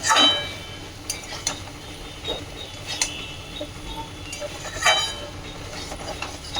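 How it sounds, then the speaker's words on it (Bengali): Spinach is stirred into boiled vegetables in a pan, a soft, steady sizzle broken by several sharp clanks and scrapes of a utensil against the metal, spaced irregularly, with no talking. "পালং শাকটা দিয়ে নাড়াচাড়া করে নেবো"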